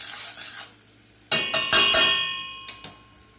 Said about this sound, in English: those have been sauteing there for about a minute